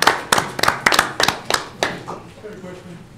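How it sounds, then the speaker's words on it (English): An audience at a monthly community meeting gives a short round of applause, a few distinct sharp claps spaced out close to the microphone that quickly thin and die away. "Can we give all a round of applause?"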